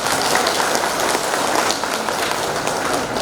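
Sustained audience applause at a nursing academy graduation and oath-taking ceremony in Lhokseumawe, a dense, steady wash of many hands clapping from a large crowd, loud and continuous with no speech.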